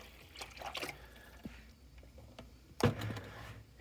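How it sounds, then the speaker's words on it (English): Water poured into a Mr. Coffee coffee maker after a switch repair, heard as soft, uneven splashing and trickling in bursts, with a louder gush near the end, close to the microphone and with no one speaking. "Just going to pour in some water."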